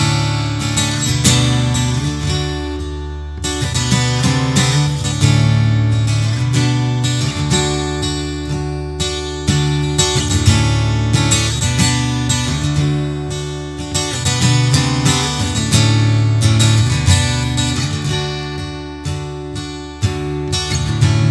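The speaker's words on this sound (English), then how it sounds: "it's one of the my favorite ones to play on guitar because it's a whole open tuning." Guitar in an open tuning plays a song, a steady full-bodied strummed and picked passage running continuously for about twenty seconds, loud and close with no talking.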